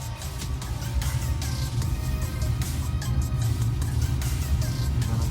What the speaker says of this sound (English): Draft motor is on.